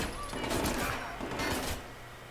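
Gunfire in Watch Dogs 2 crackles in two quick bursts of rapid shots, moderately loud and close, with a faint tone in the background.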